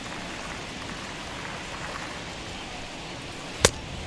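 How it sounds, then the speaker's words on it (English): Steady heavy rain hisses evenly across a ballpark in the MLB The Show 21 baseball video game, a dense wash of noise with one sharp brief crack near the end and no talk. "This has got to be the hardest rain we've seen all afternoon."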